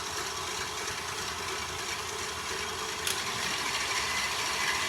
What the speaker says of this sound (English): we are going to start whisking the white eggs